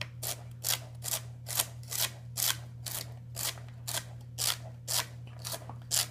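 A razor-sharp VG10 steel 67-layer high-carbon santoku knife slicing through food on a board, heard as about a dozen crisp, evenly spaced cuts in steady rhythm, close and clear under a constant low hum.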